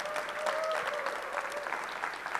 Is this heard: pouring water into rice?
no